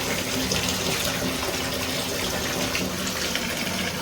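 Warm water gushes steadily from a tap into a bathtub for a foot soak, a loud, continuous splashing fill with no pauses.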